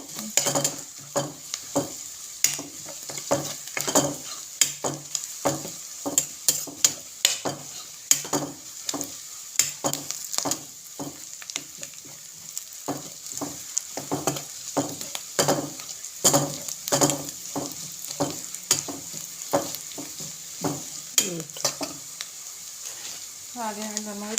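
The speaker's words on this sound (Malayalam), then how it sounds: "ഉലുവ കടുക് ഇത്രയായിട്ട് ഇട്ട് വഴന്ന് വരുമ്പോഴത്തേക്ക് നമുക്ക് പൊടികളെല്ലാം ഇട്ടു കൊടുക്കും" Fenugreek, mustard seeds and spice powders sautéing in hot oil for a Kottayam-style tuna curry, a steady sizzle broken by frequent scraping and stirring knocks against the pan, with occasional talk over it.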